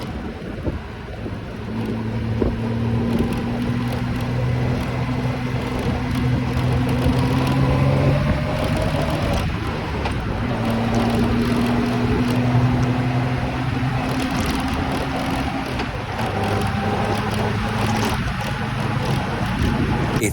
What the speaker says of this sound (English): It's unbelievable how smooth this big old 6-cylinder is.